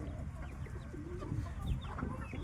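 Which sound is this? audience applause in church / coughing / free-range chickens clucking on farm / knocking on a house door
free-range chickens clucking on farm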